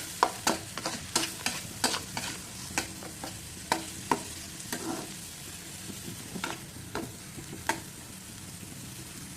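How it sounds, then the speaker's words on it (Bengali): A blended paste of green chili, onion and garlic frying in a pan for a prawn and eggplant curry, sizzling steadily as a spatula scrapes and taps in repeated sharp strokes, close up, with no talking. "এখন মধ্যে ব্লেন্ড করে রাখা কাঁচামরিচ পেঁয়াজ আর রসুন বাটা দিয়ে দিলাম মশলাগুলো ভালো করে কষিয়ে নিতে হবে"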